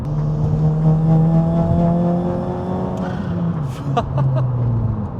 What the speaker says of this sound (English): the way the turbo like is trying to spool up sounds a bit funny